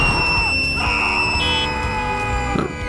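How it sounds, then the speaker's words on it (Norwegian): Game customers screaming and yelling in Gas Station Simulator, a dense continuous cacophony of shrill voices over a busy mix of game sounds, loud throughout. "Hva det dere skriker for når dere har fått med dere at det ferdig"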